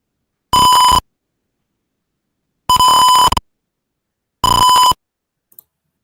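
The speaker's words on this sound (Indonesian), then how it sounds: "buzzer langsung berbunyi karena nilai tegangan dari threshold-nya yaitu 487" An MQ-2 gas leak warning buzzer in a simulated early-warning system sounds three loud, steady electronic tones of about half a second each, separated by silence.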